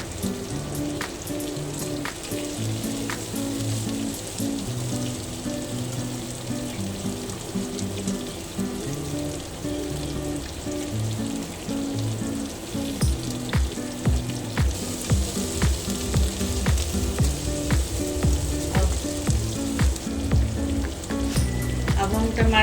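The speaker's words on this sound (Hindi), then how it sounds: "थोड़ा सा 5-6 कली लहसुन का, थोड़ा सा अदरक, उसको मिला लेंगे अच्छे से, हल्का भूनेंगे।" Green chilies, garlic and ginger sautéing lightly in a pan, giving a steady, close sizzle that runs throughout, with faint background music underneath.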